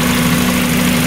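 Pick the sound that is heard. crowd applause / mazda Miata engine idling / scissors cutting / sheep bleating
mazda Miata engine idling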